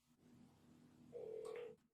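A telephone number is dialed, giving a short sequence of quiet keypad tones that ends in one louder, sustained DTMF tone lasting about half a second.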